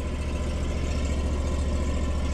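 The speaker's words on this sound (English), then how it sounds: "And that condenser fan motor is running." HVAC condenser fan motor, one that turns very slowly, running with a steady low hum and a faint mechanical whir that holds even from start to finish, with no voices.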